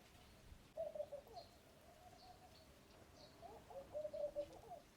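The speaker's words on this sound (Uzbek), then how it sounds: "Travesda shu musicha sayrab o'tiribdi" A dove perched on a garden trellis gives soft, low cooing phrases, two clear bursts separated by a quieter stretch, fairly close against a faint outdoor background.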